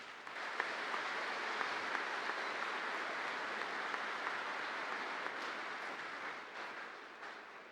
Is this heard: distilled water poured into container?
no